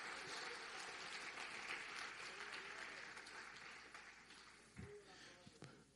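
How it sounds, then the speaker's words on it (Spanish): A church congregation claps during a Sunday morning service, a broad, steady patter of many hands that slowly thins toward the end, with a brief voice and a few knocks breaking in near the close. "Alguien debe aplaudir a Dios."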